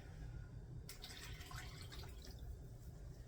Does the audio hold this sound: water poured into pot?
yes